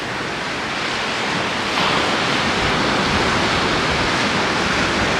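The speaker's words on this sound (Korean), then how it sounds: "해변에 원래 수영하면 이제 발 담아서 보는 건데 파도가 너무 세니까 애초에 볼 수가 없네" Strong ocean waves break at an Australian beach in winter, a loud, continuous roar of surf and wash with no voices.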